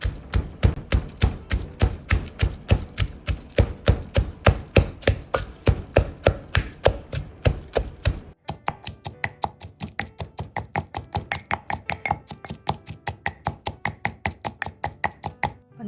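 Vegetables are pounded for a mixed Lao vegetable dish, about two steady beats per second of sharp, close knocks, at first heavier and deeper, then lighter and quicker.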